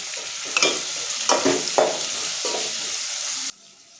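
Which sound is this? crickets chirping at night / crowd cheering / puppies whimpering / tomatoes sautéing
tomatoes sautéing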